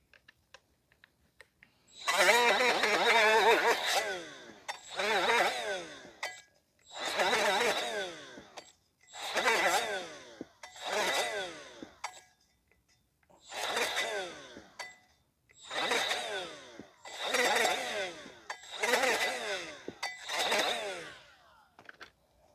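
A die grinder cleans the rear brake drum of a 2014 Chevrolet Sonic 1.8, running in about eight loud, broadband bursts of a few seconds each with short pauses between them.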